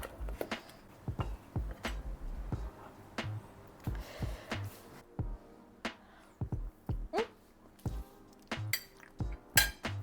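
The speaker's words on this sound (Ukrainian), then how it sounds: "Візьму ось цю пательню, поставлю її на комфорку" Metal cookware clanks and knocks several times, a frying pan set down on a stove burner and shifted with sharp clinks and thuds, close by, no talking.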